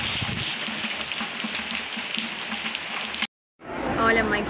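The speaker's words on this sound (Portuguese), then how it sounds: "Olha, mãe, que chuva maravilhosa." Heavy rain pours in a dense, steady hiss close by, briefly cutting out near the end before resuming.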